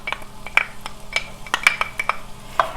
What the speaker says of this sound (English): And to this, I'm going to add 2 ribs of celery that I have sliced up, and 1 small onion that I've also diced up.